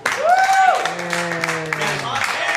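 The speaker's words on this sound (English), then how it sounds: "Let's give him a round of applause." An audience applauds a junior varsity player of the year at an event, a dense, close wash of clapping that runs throughout, with a sliding whistle-like tone rising and falling over it near the start.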